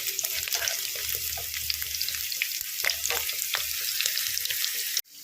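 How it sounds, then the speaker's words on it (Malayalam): Chopped ingredients being sautéed in a pan until lightly colored produce a bright, continuous crackling sizzle with occasional stirring scrapes, cut off abruptly at the end. "ഇതൊന്ന് നന്നായിട്ട് നമുക്കൊന്ന് വഴറ്റിയെടുക്കാം."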